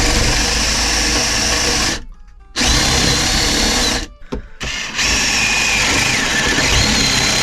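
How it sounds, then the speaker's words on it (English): A power tool cuts a hole into thick wood on a sailing boat during a lithium battery installation, a loud continuous whine that stops briefly twice and restarts. "need to cut a hole, a divot in this wood"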